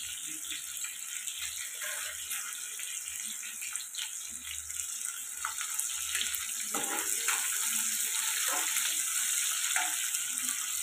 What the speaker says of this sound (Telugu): ఉల్లిపాయలు ఫ్రై అవ్వాలి